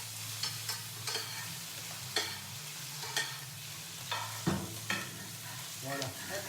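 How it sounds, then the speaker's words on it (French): A spoon bastes a red gurnard fillet in a frying pan, giving soft, repeated scraping strokes and splashes over a steady, quiet sizzle of hot fat, with no talking. "Avec une cuillère, c'est ce que je vais faire. J'arrose de mon poisson."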